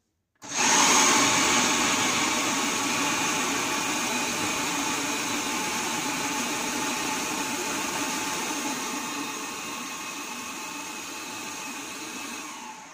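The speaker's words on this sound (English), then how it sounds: "I press the knead button to mix the florals together" A new food processor on its knead setting mixes dry bread-dough ingredients with a loud, close motor whir that kicks in abruptly and runs steadily for the whole stretch, easing very slightly as it goes.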